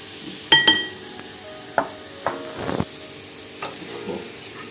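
A spoon mixing omelette batter with chili powder and flour in a bowl, giving a few sharp clinks followed by softer scraping stirs, close and otherwise quiet.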